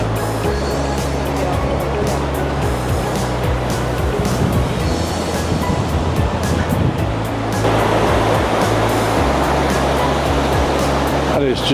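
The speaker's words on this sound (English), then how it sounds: "That is just boiling hot water running into that river." Boiling hot water from the Midway Geyser Basin hot springs at Yellowstone pours into a river with a steady, loud rushing roar that swells slightly partway through.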